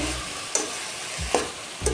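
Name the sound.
stirring food frying in a pan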